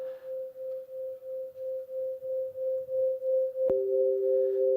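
A face's eye, hair and skin colours rendered as sound: a steady pure sine tone pulsing in soft even swells, joined near the end by a second close tone after a brief click, faint and alone.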